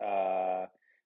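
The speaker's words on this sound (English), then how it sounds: "You may hear a dog in the background." A dog growls and whimpers in the background, with one sustained, tonal, moaning growl of under a second that cuts off abruptly, followed by a faint, brief whine.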